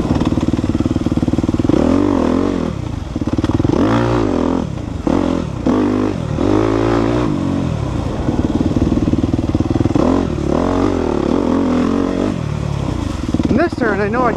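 Dirt bike engine on an overgrown trail, buzzing steadily with repeated sharp revs and throttle blips rising and falling, loud and close, with some clatter from the ride.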